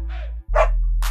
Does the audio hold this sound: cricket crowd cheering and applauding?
no